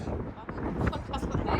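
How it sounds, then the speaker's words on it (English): Strong wind at the beach buffets the microphone in a continuous, loud roar, with faint voices mixed in beneath it. "Oh, it's windy."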